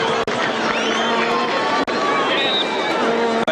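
A stadium crowd roars steadily for a soccer player returning to the field in a 1983 National Soccer League match, Preston Makedonia against South Melbourne Hellas, with a commentator talking over the noise.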